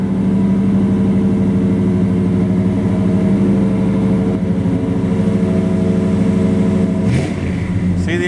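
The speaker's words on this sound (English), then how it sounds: "it's a cold start. He's pulling it out of the shop for us." A 1958 Chevy big-window truck engine idles steadily after a cold start, a loud, continuous rumble with an even throb throughout and a brief shift in tone near the end as it is pulled out of the shop.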